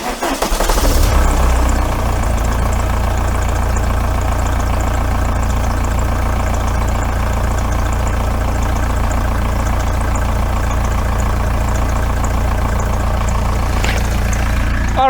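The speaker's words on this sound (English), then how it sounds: "let's start the engine and have a listen" A Volkswagen T25/T3 camper van engine starts up and settles into a steady, rumbling idle that runs on evenly and close by, with no talking.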